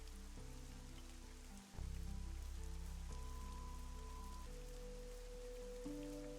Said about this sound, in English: But it's very soothing to hear the rain